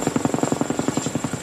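Close, loud rhythmic rotor chop of a rescue helicopter hovering and spinning while hoisting a load, with rapid evenly spaced thumps and a steady high whine above them.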